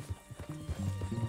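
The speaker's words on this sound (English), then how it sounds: "Get your horse and let's go." A horse in Red Dead Redemption 2 gives a close, loud whinny and snorts, with hoof clip-clops thudding underneath.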